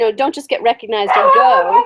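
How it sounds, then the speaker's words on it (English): A pet dog barks and yips indoors at home, short sharp calls close by and mixed with a person talking over them. "Oh, sorry, that's my dog."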